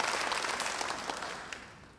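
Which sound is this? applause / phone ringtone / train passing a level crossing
applause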